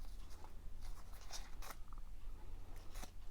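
Scissors snipping through a small craft embellishment cluster of lace and a butterfly, a few quiet crisp cuts and rustles at close range with no talking.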